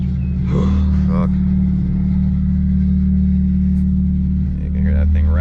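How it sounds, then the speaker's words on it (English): Loud idling exhaust from a straight-piped 9th-gen car, a steady low drone with a rattle from the downpipe, continuing close up for several seconds under brief talk. "You can hear that thing rattling on the fucking downpipe."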